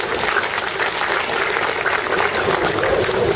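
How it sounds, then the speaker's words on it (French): An audience at a financing ceremony for project holders gives steady applause, a dense sustained clapping from a crowd in a hall that holds evenly from start to finish. "Je souhaiterais qu'on les applaudisse très rapidement."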